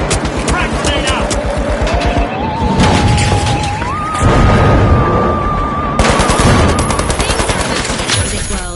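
Video game crack grenade blast with heavy gunfire, a dense loud stream of rapid shots and crashing bursts under a steadily rising synthetic tone.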